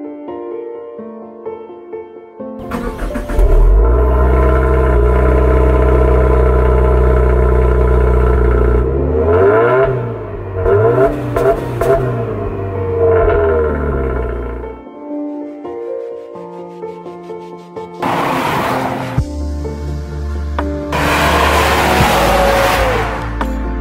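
A Subaru WRX GT sports sedan with a CVT transmission revs hard and loud, rising and falling in several long bursts close by, with brief gaps of near silence between the roars.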